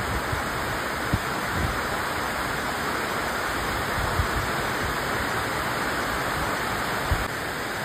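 A steady, loud wash of heavy rain seen from a balcony, with a few faint knocks and patters scattered through the continuous hiss.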